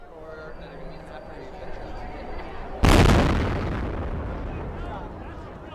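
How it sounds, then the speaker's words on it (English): A single loud blast from the first explosion at the Boston Marathon finish line on the ground, going off suddenly over a noisy crowd, its broad roar decaying slowly over a couple of seconds amid the street din. "What you just heard in that video was the actual first explosion on the ground there at the marathon"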